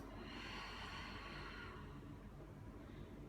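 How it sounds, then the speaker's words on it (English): A slow, deep exhale through the mouth during a yoga breathing cue, a soft breathy rush that swells for about a second and a half and then tapers off, faint and steady with no talk over it. "Take a deep breath in through the nose, fill the belly. Exhale throughout mouth."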